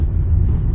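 A Toyota Proace Camper Nomad van rolls over rough pavement, with a dense low rumble of road noise and faint rattles from the cabin, steady and close.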